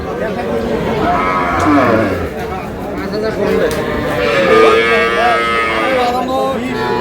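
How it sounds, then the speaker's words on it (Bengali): Dairy cows and calves moo loudly and repeatedly at the Aftabganj cattle market in Dinajpur, the drawn-out calls close by over a dense crowd murmur, with people talking throughout. "গাভী বাছুর।"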